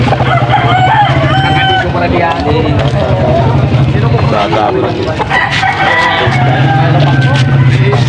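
A young rooster (stag) crows at a Bocaue poultry market, its calls loud and close amid a busy crowd, with people talking over it the whole time.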